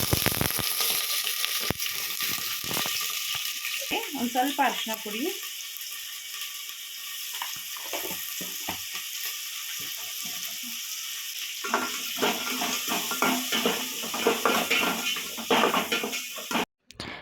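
Mutton bones frying in hot oil for tempering, a continuous sizzle with scraping and stirring clatter throughout, while a voice talks over part of it.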